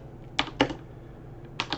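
A few scattered keystrokes on a computer keyboard, three sharp taps in under two seconds over a low room hum, with no talking.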